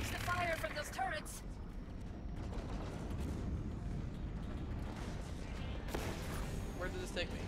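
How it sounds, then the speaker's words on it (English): Turret gunfire in the Halo 5 Guardians campaign, heavy rumbling bursts and booming blasts rolling over several seconds amid game noise, with a voice speaking briefly at the start and near the end. "Watch the fire from those turrets!"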